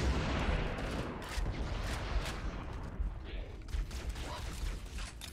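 Assault rifle fire in the video game Halo MCC, rapid bursts of shots crackling and layered together continuously.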